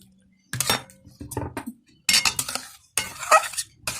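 A spoon scrapes and clinks in bursts against a metal pot as ghee is stirred into beet and carrot curry, with loud, close, irregular strokes separated by brief pauses.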